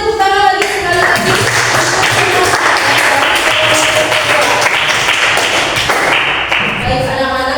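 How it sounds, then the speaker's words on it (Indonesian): Students clap together in a classroom after a group project on making liquid fertilizer from dry leaves. The applause is steady, dense and close, running the whole clip with brief voices at the start and end. "Kita beri tepuk tangan lagi sekali lagi."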